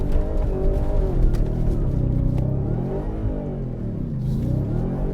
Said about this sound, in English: that's how you do a 180 in a Raptor R.